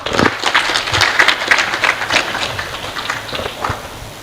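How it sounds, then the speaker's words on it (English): An audience at an education conference in Kenya applauds Professor Laila Bakar, a dense, loud burst of clapping that holds steady and gradually thins toward the end. "A round of applause for Professor Laila Bakar."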